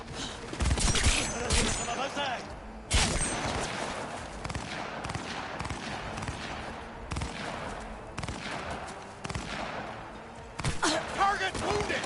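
Shotgun blasts and other gunfire in a Cyberpunk 2077 firefight, repeated loud booming shots and bursts in irregular clusters, mixed with in-game voices shouting.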